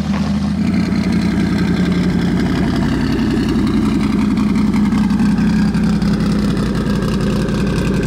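A 2,000 hp Coyote-engined race car with side-exit exhaust runs loud and close, its steady rumbling idle rising into revs and holding there for about eight seconds, with no talk over it.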